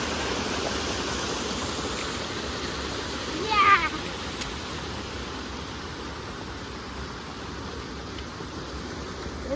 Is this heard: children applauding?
no